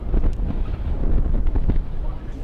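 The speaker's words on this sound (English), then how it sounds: "this wind is definitely huffing and puffing tonight" Gusty wind buffets the microphone at a night high school football game between Ridgeline and Mt. Spokane, a loud, rumbling, uneven roar that surges throughout.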